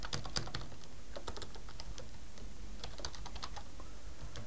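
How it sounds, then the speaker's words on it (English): Steady computer keyboard typing, with fast runs of crisp key clicks over a constant background hiss. "So I'm going to type in training video"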